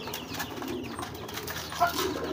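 A pigeon coos softly while eating from its feed, low, faint murmuring with a brief flutter-like rustle, close by and otherwise quiet.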